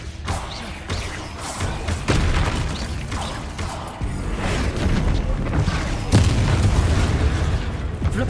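Confringo spell blasts go off in a Harry Potter video game, a run of booming explosions and thuds roughly every two seconds, loud and close over a steady mechanical rumble.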